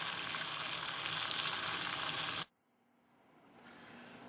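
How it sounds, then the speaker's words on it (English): An alcohol stove holding water at a rolling boil gives a loud, steady broadband roar for about two and a half seconds, then cuts abruptly to a quiet, faint hiss that slowly swells again. "rolling boil."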